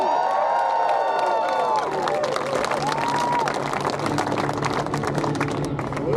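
A large crowd at Federation Square in Melbourne cheers and claps loudly throughout, a dense roar of applause and shouts with whistle-like squeals early on.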